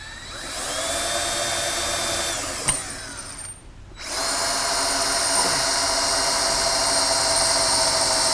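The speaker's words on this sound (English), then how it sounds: "And then you can come through with your 29/64 drill bit and bring that to the correct size for the nut insert." A power drill with a 29/64 bit enlarges a hole for a nut insert while installing skids on a Yamaha Viking VI, whining steadily, stopping with a sharp click and brief pause, then spinning up again.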